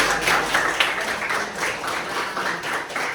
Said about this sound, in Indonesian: tepuk tangan dong untuk Justin